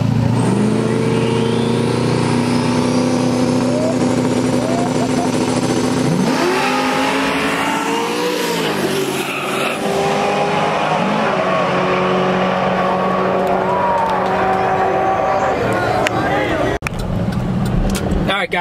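A nitrous-fed Mustang and a turbocharged Mustang launch in a street race, engines roaring loud and close with rising revs, a gear change around midway, then sustained high-pitched wailing acceleration as the cars pull away; voices talk over it.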